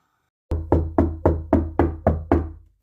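Eight firm knocks on a door, evenly spaced and close, starting after a brief silence and ringing out slightly after the last, with no voices.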